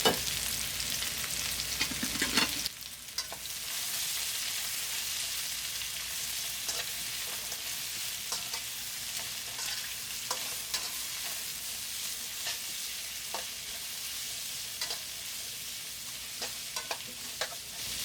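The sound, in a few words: stir-frying capsicum for mutton fried rice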